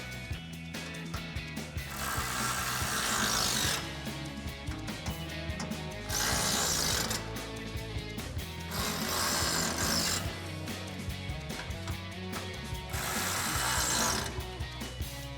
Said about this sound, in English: we'll take a 5mm Allen socket to tighten them all down.